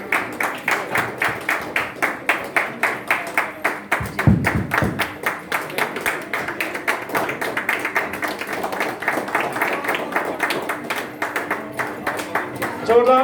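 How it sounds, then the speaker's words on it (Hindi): An audience at a 2021 seminar in Odisha claps in a steady rhythmic beat, honouring women called onto the stage. Loud, even claps repeat for the full stretch under continuous background voices. "एक बार जोरदार तालियां"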